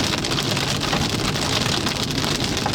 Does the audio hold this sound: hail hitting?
yes